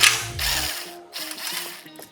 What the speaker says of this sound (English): we have easier access to these two little 8mm bolts that hold in the low oil sensor. We can back those out.